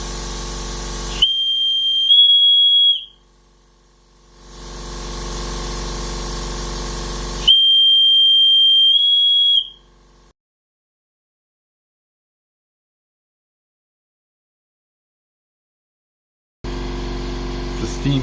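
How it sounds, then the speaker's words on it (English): Steam whistle of a coal-fired LGB Mallet model locomotive, two sustained shrill tones of a couple of seconds each, heard close over loud rushing steam hiss that stops and restarts between long silences. "this steam whistle is now a bit more optimized."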